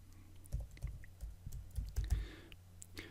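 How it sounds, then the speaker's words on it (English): Fingers type text on a computer keyboard, an irregular run of soft, close key clicks and taps heard alone without talking. "we'll type in"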